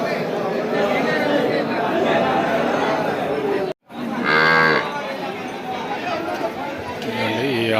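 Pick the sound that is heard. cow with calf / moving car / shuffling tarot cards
cow with calf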